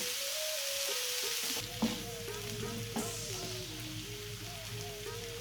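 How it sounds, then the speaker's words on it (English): A creamy spicy prawn stir-fry sizzles continuously in a pan, a soft steady hiss with a couple of faint clinks from stirring, close by, with a quiet tonal hum running underneath. "give that a good stir. Whilst that's cooking"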